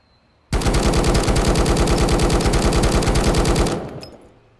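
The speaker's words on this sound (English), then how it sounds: "we are not supposed to full auto fire at something" A gun in the singleplayer survival game Road to Vostok fires full-auto in one loud, rapid burst of evenly spaced shots lasting about three seconds, then the echo fades away.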